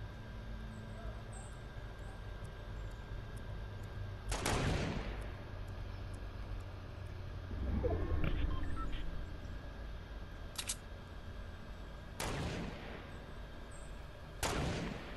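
Gunfire in the Fortnite video game comes as several sharp, loud shots spaced a few seconds apart, over low background noise and quiet game sounds.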